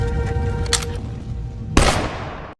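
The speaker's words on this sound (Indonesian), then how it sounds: "Hyun Min pun menembak Soyeon menggunakan pistol milik polisi Songwoo" A single sharp police pistol shot rings out in a Korean drama scene, loud and close, cutting through a background music bed and trailing off in a short decay.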